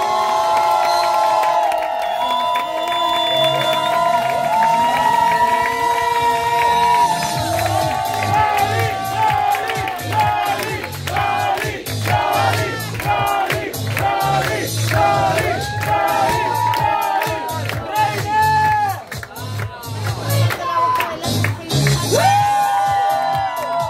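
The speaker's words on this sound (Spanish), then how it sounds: "quiero un fuerte aplauso para ella" A live audience at the grand final of an improv competition cheers and whoops loudly, with crowd shouting and applause sustained throughout, a voice rising over the din at times.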